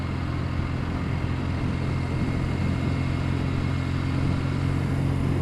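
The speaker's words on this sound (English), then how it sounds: "So we're out on the old Norton 650 SS." An old Norton 650SS motorcycle being ridden, its engine droning steadily and loudly throughout under heavy rushing road and wind noise, with no speech.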